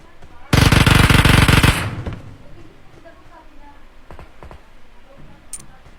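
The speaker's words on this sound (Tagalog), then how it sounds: "pag ikaw binaril ko ng vector ko" Vector submachine gun in PUBG Mobile fires one loud, rapid full-auto burst lasting just over a second, followed by quieter game noises and faint thumps.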